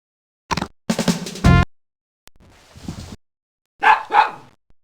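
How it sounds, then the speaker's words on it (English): A bulldog gives a few short, sharp barks in separate bursts with silent gaps between, followed by a softer rough bark and a final louder pair near the end. "Bulldog"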